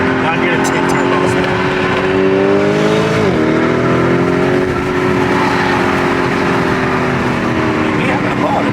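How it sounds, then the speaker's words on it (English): A twin-turbo McLaren engine revs hard during a pink-slip street race, its harmonic whine rising and dipping with a shift around midway, loud and continuous, with people talking over it. "Y'all hear the twin turbos in there, man"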